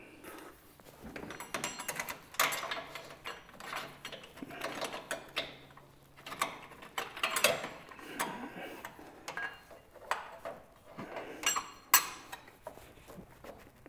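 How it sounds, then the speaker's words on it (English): Metallic clicking and ratcheting as an oil filter is worked loose from a RAM Cummins 4x4 truck through the wheel well, intermittent bursts of small clanks and scrapes, fairly quiet and close. "Let's go ahead and take the oil filter off"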